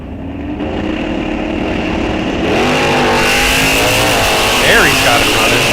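A 2005 Chevrolet Cavalier drag car at an NHRA National Open drag strip, its engine turning over and then catching into a loud, steady idle and rev, up close, under an announcer's voice.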